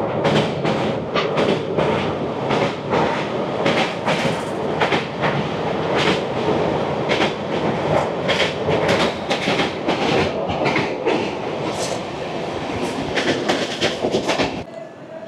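Humsafar Express rolls along the rails near Jamshedpur with continuous loud rumbling and rhythmic clickety-clack beats from the wheels, heard from on board, before an abrupt cutoff near the end.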